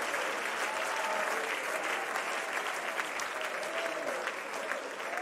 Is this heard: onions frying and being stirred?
no